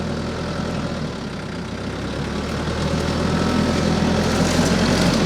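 A heavy farm tractor of about 7,000 pounds runs steadily nearby, its low engine drone continuous and rising slightly in loudness partway through, with no talk.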